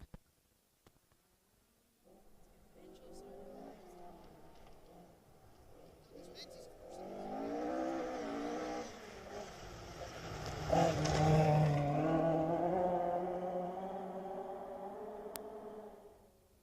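Rally car number 45 on a special stage at Castle O'er builds from distance into a loud engine pass with rising and falling revs, the roar peaking mid-way before fading; crowd or commentary chatter sits faintly under it.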